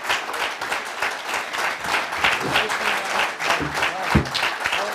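Sustained audience applause fills a live poetry event hall in Milton Keynes, England, dense clapping throughout with a few sharper claps standing out near the end.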